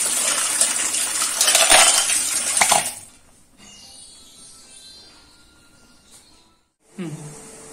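Live clams are swished and rubbed in water in a bowl, giving a loud rattling, clinking wash with splashing for about three seconds, then quieter trickles and a short final splash.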